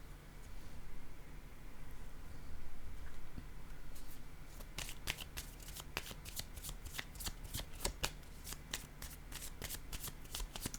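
Oracle cards are shuffled and handled in soft, close riffling and sliding, then a run of crisp, quick card flicks and taps as they are laid down, with no talking.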